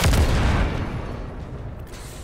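A grenade blast in the Halo Infinite game, a loud booming burst at the start that rolls off into a rumbling tail of distant gunfire-like crackle.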